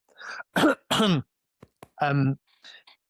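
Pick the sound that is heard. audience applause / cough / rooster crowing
cough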